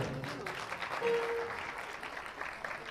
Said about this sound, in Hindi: नजाकत की मुस्कुराहट के लिए तालियां बजा दे